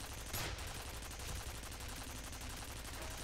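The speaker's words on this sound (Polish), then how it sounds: "kiedy słyszymy wystrzały z wieżyczki" Rapid bursts of automatic turret gunfire in the video game F.E.A.R. crackle in a dense, continuous stream, fairly loud, with a sharp blast near the start.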